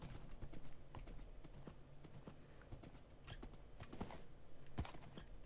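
Steady clip-clop of horse hooves at a quick gallop in Minecraft, a continuous rhythmic pounding with scattered sharper knocks, fairly loud and close throughout.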